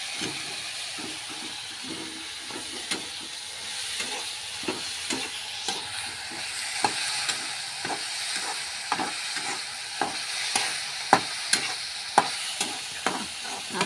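Masala for masoor dal roasting in a pan gives a steady sizzle and hiss, broken by frequent scraping and stirring clicks from a spoon that grow sharper toward the end.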